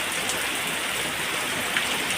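Winter rain pours steadily in Gujarat, an even, unbroken hiss of drops on surfaces, close and constant with no voices.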